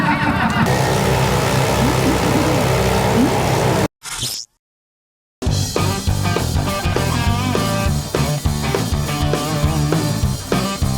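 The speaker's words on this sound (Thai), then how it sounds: "ด้านหลังที่เห็นอยู่นั่นก็คือขบวนเวสป้ารีเวสป้านะครั บ มีทั้งตัวเก่าแล้วก็ตัวใหม่นะฮะ" Many Vespa scooters, old and new models, roll by in a parade at a street festival in Songkhla, their engines making a loud, dense, continuous roar. It cuts out briefly, then returns.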